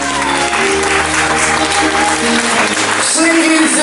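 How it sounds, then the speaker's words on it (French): Wedding guests applaud the couple in a steady, loud wash of clapping and crowd noise, with music and voices blended underneath. "Je crois qu'on peut les applaudir très très fort,"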